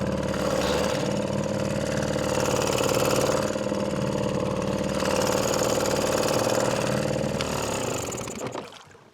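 An outboard boat motor with its fuel shut off keeps running steadily on what is left in the carburetor, a loud, even mid-pitched drone that falters near the end and sputters out.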